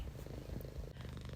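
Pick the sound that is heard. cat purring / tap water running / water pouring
cat purring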